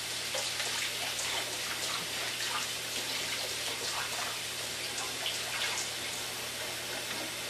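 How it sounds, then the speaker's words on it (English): Green lentils and chickpeas rinsed in a sieve under running water: a steady, close, hissing splash of water that holds evenly throughout. "I give them a rinse 3 times."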